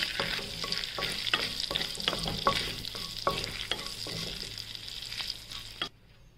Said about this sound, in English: and then cardamom. And the bay leaf. Saute it for few seconds.